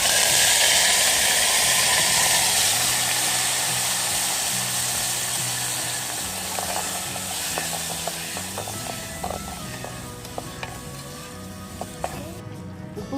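Ground tomato paste hits hot oil already tempered with asafoetida and curry leaves for tomato chutney, giving a loud, steady close sizzling hiss that eases slightly over time, with no talking.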